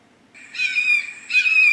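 A red-shouldered hawk gives two loud, clear, drawn-out screaming calls close by, each a high piercing note with a slight drop, separated by a short gap, with no other sounds.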